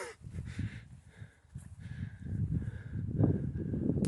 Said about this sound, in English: A bird flew out just as I was fixing my hair and frightened the crap out of me.